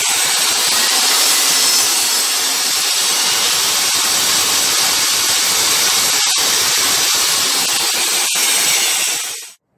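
A saw cuts wood guided by a hexagon cutting jig set at 30 degrees, a loud, steady broadband rasping hiss running unbroken for nearly ten seconds before stopping abruptly.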